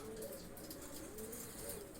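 Low, soft cooing from a large female pigeon, repeated in a few gentle rounded calls against a steady background hum, fairly faint and close by.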